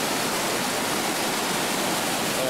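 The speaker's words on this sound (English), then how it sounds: "You got multiple streams coming down right here" Several streams of water pour down over rocks in an outdoor oasis, producing a loud, dense, unbroken rush of noise that stays constant throughout, with no voices.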